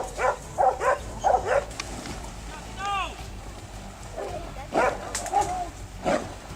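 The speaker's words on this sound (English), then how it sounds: "The dogs' continuous barking helps guide the hunters directly to the scene where the pig is being held." Hunting dogs on a feral pig hunt bark in repeated short bursts at a moderate distance, with a narrator talking over part of it and a faint whine in the middle.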